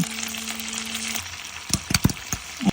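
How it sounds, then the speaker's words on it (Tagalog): Garlic and ginger fry in butter and a little oil for a bamboo shell dish, a close, steady sizzle with a few sharp crackles and stirring clatters toward the end. "maglalagay lang tayo ng konting mantika para hindi masunog agad yung ating butter"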